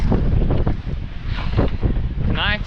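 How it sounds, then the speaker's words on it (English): Strong wind at sea on a windy night with high seas buffets the microphone in a constant low roar, with rushing noise suggesting open water. "Tonight's been pretty windy"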